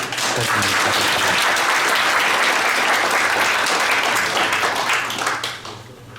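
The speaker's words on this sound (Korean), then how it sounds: "큰 박수 부탁드립니다" Audience applause following a lecture on Russian security strategy at a Buddhist forum, a dense steady wash of clapping from a large hall that holds for about five seconds, then thins and fades away.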